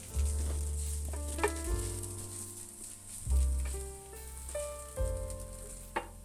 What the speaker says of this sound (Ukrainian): Смажуємо до золотистої шкоринки